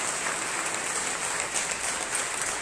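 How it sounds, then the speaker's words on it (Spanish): A church congregation claps in praise during a Spanish-language service. The sustained, even applause fills the room for the whole stretch. "Den una ofrenda de palmas al Señor porque Él es digno de oración y salvación."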